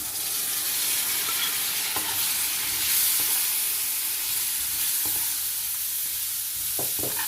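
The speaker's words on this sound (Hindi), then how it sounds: "चनों को भी अच्छी तरह से हमने मिलाना है ताकि सारे मसाले इसमें रच बस जाएं" Chickpeas stirred into a spiced masala in a hot pan for chana chaat, with a steady close sizzle and occasional scraping knocks of the spoon throughout.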